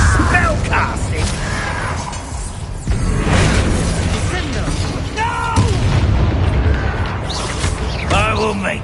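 Spell casting in the game Hogwarts Legacy, with magical blasts, booming impacts and crackling whooshes filling the scene, loud and dense, while voices speak over the effects.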